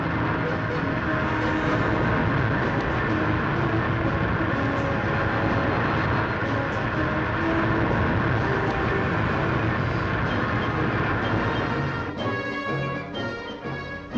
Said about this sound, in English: merry-go-round coal trains moving continually between pitheads and power stations